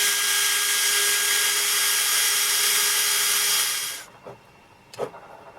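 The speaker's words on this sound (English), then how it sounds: "And now I want to drill a hole" A steady, loud whirring drill runs continuously for about four seconds while drilling a hole in a Big Mouth Billy Bass novelty fish, then stops abruptly, followed by a couple of short knocks.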